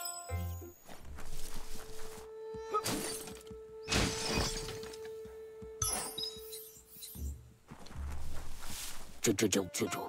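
A wooden emergency box smashed in the game Biomutant, with several loud shattering crashes and clinks in bursts, separated by brief pauses and a steady tone, ending in a rapid cluster of breaking impacts.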